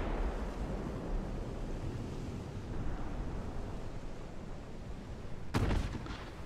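An 8-inch naval shell strikes a destroyer during a warship battle in Ultimate Admiral: Dreadnoughts: a steady roar of gunfire and rumbling sea builds until a single sharp, heavy blast lands near the end.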